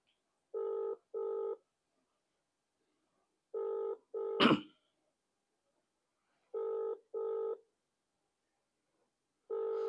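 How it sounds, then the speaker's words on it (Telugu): An outgoing call's ringback tone pulses in paired beeps, repeating three times with gaps of silence, interrupted once by a brief sharp click or knock. "రింగ్ అవుతున్నది."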